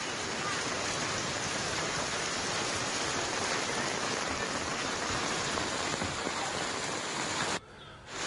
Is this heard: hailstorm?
yes